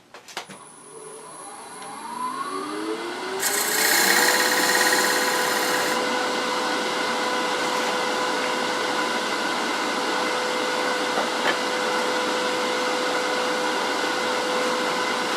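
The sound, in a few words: wood lathe turning a bowl with a gouge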